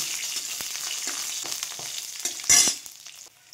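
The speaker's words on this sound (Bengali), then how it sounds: "একটু ভেজে নেব।" Hot oil sizzles steadily in a pan as nigella seeds and garlic fry for a coriander-leaf chutney. A brighter, louder burst of sizzling flares near the end, then fades.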